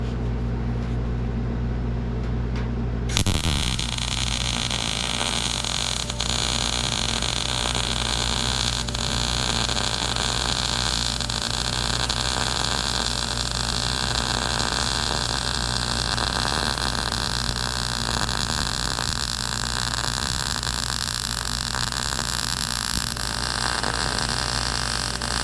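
After a short quieter lead-in, a MIG welder starts and keeps going for the rest of the span, giving a loud, steady, hissing crackle that runs close and unbroken.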